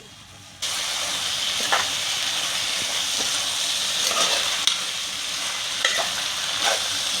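Banana flower stir-fried with dried shrimp and kokum in a pan, a steady sizzling hiss with scattered scraping stirs, moderately loud and close, with no talking.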